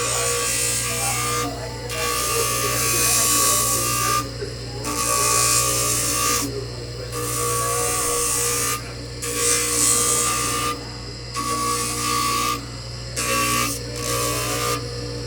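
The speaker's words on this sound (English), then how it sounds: "I'm going to do the first part of the trimming of this temporary on the wheel." Dental lab trimming wheel cutting down a temporary crown, a loud high-pitched grinding whir that starts and stops in repeated bursts of one to two seconds over a steady background hum.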